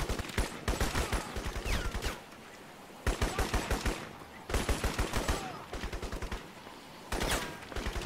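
Rapid bursts of gunfire from shooting in the video game Crysis, loud and close, coming in several separate rattling volleys with short pauses between them.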